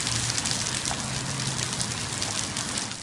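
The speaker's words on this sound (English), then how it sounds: "Rain and thunderstorms are common in West Virginia" Steady, dense rain falling during a West Virginia summer storm, a continuous even hiss of drops heard alone at a moderate level.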